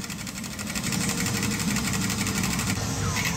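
Machine gun recoil on a Time Crisis 3 arcade cabinet in a bowling alley arcade: a loud, dense, rapid mechanical rattle that hammers on without pause over busy arcade noise.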